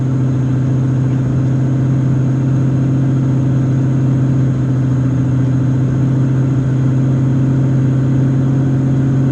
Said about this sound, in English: Idle is extremely high right now.